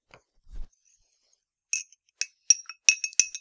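A spoon clinks lightly against a glass of water several times, the taps coming quicker and closer together as the stirring goes on.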